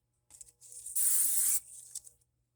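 Spray can hissing onto a handmade dinosaur journal cover in a few short bursts, then one sustained spray of about half a second, close and clear, with no talk.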